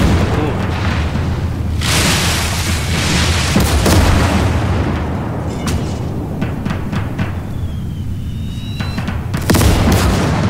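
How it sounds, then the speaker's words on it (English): Mortar rounds fired at enemy artillery in the WWII strategy game Gates of Hell, heard as deep booms and distant blasts rolling over steady battlefield rumble, with sharper bursts near the end. "Firing with the mortar at the artillery"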